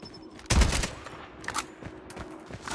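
An AK-47 fires in the multiplayer shooter game on the Crash Map: a loud close burst of rapid shots, then scattered quieter cracks and distant gunfire follow.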